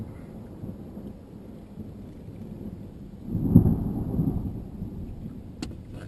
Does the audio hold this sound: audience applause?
no